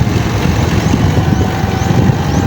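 A boat engine runs steadily in low gear on a cold hidden river in a remote mountain area, a loud continuous rumbling drone with no pauses and no talk.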